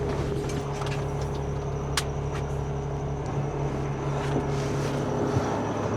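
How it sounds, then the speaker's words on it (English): A spare truck pulling a belt trailer runs at a steady idle while its PTO engages. It makes a continuous droning hum with faint metallic ticks, close by and with no talking. "kick on the PTO"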